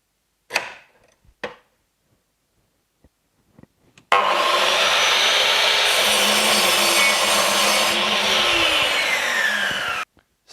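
A Metabo KS 216 miter saw makes a 45-degree test cut. After a few faint knocks, the blade runs as one loud, steady, close whine and rasp for about six seconds, then stops abruptly.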